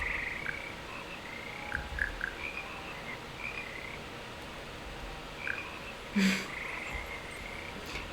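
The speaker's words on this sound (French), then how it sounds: "C'est ici que se perchent les grenouilles gluantes et mélodieuses qui forment le cœur des grenouilles de Poudlard." A frog choir croaks in a Hogwarts music room in Hogwarts Legacy, with scattered chirping croaks and trills over a low murmuring backdrop and a louder burst near the end.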